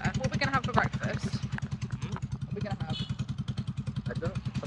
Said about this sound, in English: This scooter's really annoying me. It's so loud.